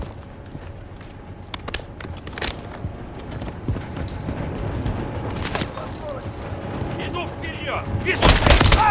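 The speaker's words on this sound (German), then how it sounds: "Wir schießen!" Gunfire in the Call of Duty Modern Warfare 3 game, Gora Dam map: scattered sharp shots ring out irregularly over a busy background, with a louder burst near the end and voices talking.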